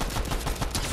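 Pistol shots crack out in quick succession during a Fortnite Chapter 5 match, loud and close, several rapid reports packed into a single second with no talk over them.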